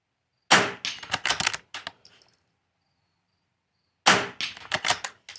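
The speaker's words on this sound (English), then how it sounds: "Okay, and then 2 shots at the far." Two bursts of sharp rifle shots at a far target during an NRL22 rimfire precision match, each cluster of loud cracks separated by a quiet gap, close and alone with no talk.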